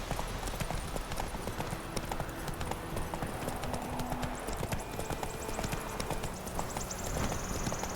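Hooves of the horse Roach in the video game The Witcher 3, a quick rhythmic clip-clop of galloping that continues throughout over faint game ambience, with no voices.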